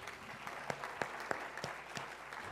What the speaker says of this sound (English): Reverend Dr. Jonathan Weaver, would you please give him a round of applause?